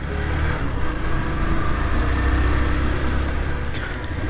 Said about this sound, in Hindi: काफी देर बाद ये बाइक निकाली है मैंने।